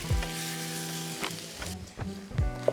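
Tomatoes stewing over low heat in a hot pot, with a continuous soft sizzle and bubbling close by, broken by a few light clinks and taps, and no speech.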